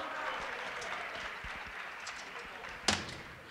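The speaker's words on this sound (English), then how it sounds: "Big round of applause for Crowbar." Crowd at a high school robotics competition applauds the robot Crowbar, a soft steady wash of clapping under an announcer's voice, with a sharp bang near the end.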